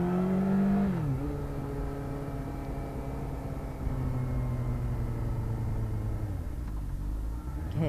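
A car passes close by on a road while someone walks or rides slowly along it, its engine and tyre noise a steady broad rumble that holds loud for several seconds, with a falling pitch near the start as it goes by.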